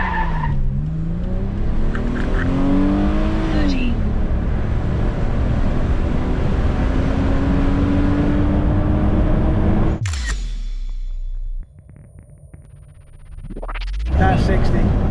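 A 1998 Mitsubishi Pajero Evolution accelerates hard from a standstill to 60 mph, engine pitch rising through gear changes, loud and close, before the roar cuts off and a brief rev follows.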